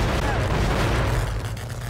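Explosions in the mobile horror game Dead by Daylight Mobile: a dense, loud rumble of deep booms and bursts fills the whole stretch.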